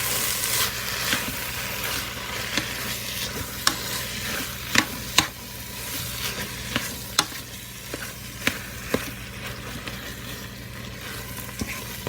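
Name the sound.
chili ingredients sauteing in a hot pan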